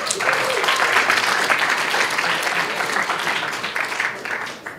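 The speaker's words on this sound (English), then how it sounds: "Give a big round of applause for our next team." A hackathon demo audience gives a round of applause for the next presenting team, steady dense clapping from many hands that holds for several seconds and fades slightly at the end.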